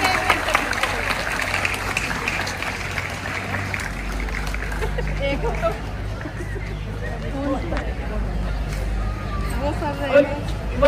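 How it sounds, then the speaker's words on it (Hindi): Audience at a Bharat Vikas Parishad school event applauds the teachers; clapping mixed with crowd murmur and low rumble runs beneath ongoing talk for the whole stretch. "एक बार जोरदार तालियां हो जाए सारे अपने शिक्षक"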